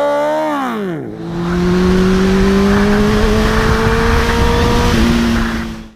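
A yellow Honda CBR1000RR motorcycle drops through a gear change and then pulls away, its engine droning loud and steady and rising slowly in pitch before cutting off sharply.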